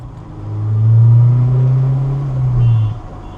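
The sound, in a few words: Honda S2000 driving with no interior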